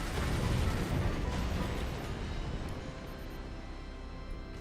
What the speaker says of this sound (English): That's the sound of an explosion.